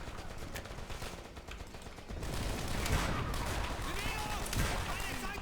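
Gunfire in the video game Call of Duty World at War rattles in bursts of shotgun and machine gun shots, growing louder and busier midway, with a voice talking over the battle.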